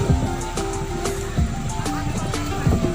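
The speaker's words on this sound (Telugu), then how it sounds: "మస్తు పోతున్నాయి వాటర్" Lake water rushing over a causeway between Kothapalli and Chintakunta near Karimnagar, a steady broadband wash with wind buffeting and faint background voices.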